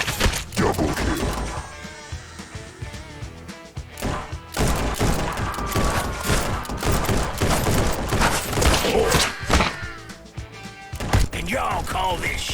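Rapid bursts of gunfire crackle through a gunfight in the Western shooter game Guns n Stories Bulletproof, dense and loud, with clustered volleys and short gaps, continuing steadily over backing music.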